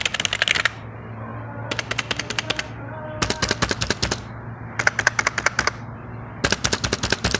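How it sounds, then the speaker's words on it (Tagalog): A clicky computer keyboard being typed on in quick bursts of sharp, close key presses, with short pauses between each burst and no talking. "Clicky ang buttons niya, no? I like the sound of every key press, especially the space button."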